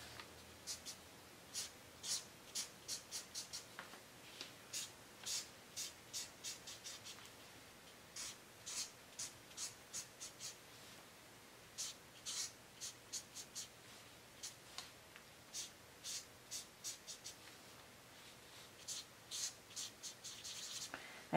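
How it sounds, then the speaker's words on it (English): Marker or crayon scratching across paper while curved lines are drawn and filled in with yellow for autumn leaves, dozens of short, close, rhythmic strokes in bursts with brief pauses, no talking. "Drawing a curved line, another curved line, and filling it in."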